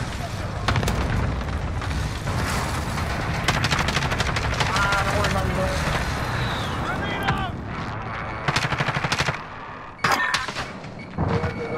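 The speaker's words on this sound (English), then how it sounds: "Enemy cluster strike incoming, take cover." Cluster strike explosions in Call of Duty Warzone, a dense barrage of loud rapid blasts and gunfire-like cracks that rolls on for several seconds, broken by short gaps, with a game voice speaking over the chaos.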